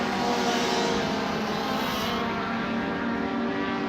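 A saloon race car on a circuit roars steadily at close range, braking into a turn and accelerating back out, its engine note loud and continuous with no talk.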